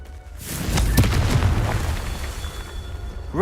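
Confringo fire explosion spell in Hogwarts Legacy, a sharp close-up boom at once followed by a long rolling, crackling burn that slowly fades.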